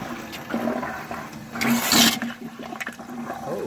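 Water rushes through a hydronic fan coil and into a tank, flushing out trapped air bubbles in a gurgling surge that peaks midway, then eases to a trickle.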